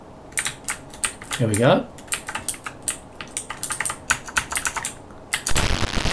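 Keys pressed on a Sinclair ZX Spectrum keyboard, a run of close, sharp clicks and taps in an uneven typing rhythm, with someone speaking briefly partway through and a burst of game noise at the end.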